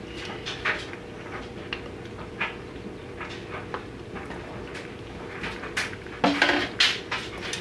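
Rehydrated pumpkin mash being stirred into a mixture: a spoon knocks and scrapes against a bowl in scattered, irregular clinks over a quiet background, with a cluster of sharper knocks near the end and no speech.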